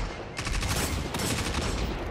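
SMG fire in a video game: a rapid burst of loud automatic shots lasting about a second and a half, up close, with a second short burst after.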